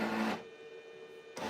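An xTool laser cutter runs with a loud whirring motor burst, drops to a softer steady hum with a faint tone, then surges loud again.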